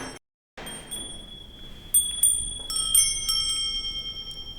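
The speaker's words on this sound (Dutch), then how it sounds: "Een bel." A small bell rings several times with clear, sustained high metallic tones, fairly close and moderately loud, after a brief moment of silence, at a harvest festival.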